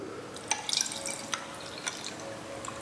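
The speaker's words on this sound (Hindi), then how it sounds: "और अब मैं इसके साथ पानी मिक्स कर रहा हूँ।" Water is poured into a glass of Sterling Reserve B7 whisky over three ice cubes, giving a soft trickle with scattered clinks and drips, close and fairly quiet, no talking.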